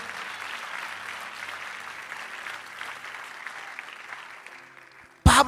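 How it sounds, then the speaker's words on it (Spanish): A church congregation applauds during a youth service, with steady sustained clapping filling the hall before a sudden loud burst at the very end. "Y ese aplauso es para Cristo."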